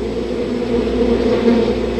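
A swarm of bees buzzes steadily and close, a dense, continuous drone that swells slightly midway, with no voices over it.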